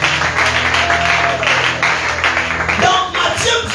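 A church congregation at a live evangelical seminar claps together in dense, sustained applause that stays loud and steady throughout, with a voice faintly present underneath.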